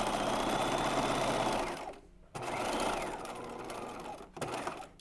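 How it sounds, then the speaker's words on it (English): Sewing machine stitching the channels of a bodice, a loud continuous whir that stops briefly around the two-second mark, restarts and runs on with another short pause near the end. "I'm just gonna switch my needle to the other side of the blade, continue stitching."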